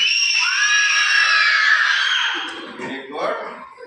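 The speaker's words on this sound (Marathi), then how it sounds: "ओरडून दाखवा की." Children at an awareness camp scream loudly together on request, a sustained shrill chorus of many voices that tails off into scattered shouts.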